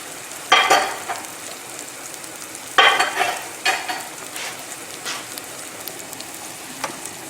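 Shrimp dropped into hot butter and olive oil, seasoned with salt and pepper, for a garlic ginger red onion pasta: two loud bursts of sizzling frying, each fading, followed by softer stirring crackles up close.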